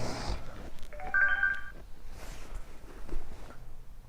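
A mobile phone places a call: a short run of dialing tones plays for about half a second, then faint room noise follows.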